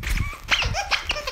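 A young dog in a harness makes a quick series of close, high whimpering yips and soft barks, several short bursts in a row with no talk.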